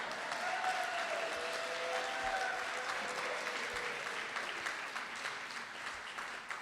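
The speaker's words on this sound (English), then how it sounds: "Give me the loudest round of applause" A live studio audience at a holiday-season radio show breaks into a loud, sustained round of applause, a dense wash of clapping that holds steady and tapers off slightly toward the end.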